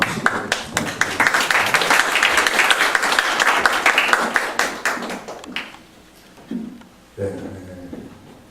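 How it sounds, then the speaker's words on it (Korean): Applause and clapping from an audience at a university lecture on chemistry and faith, greeting a professor as he comes forward; dense, sustained clapping for about five seconds that thins out and fades, followed by quieter room sounds. "황 교수님 나오실 때에도 큰 박수 부탁드리겠습니다."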